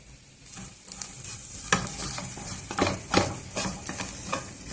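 Potatoes and garlic frying in oil in a pan, with a steady sizzle and repeated spatula stirring scrapes close by, no talk.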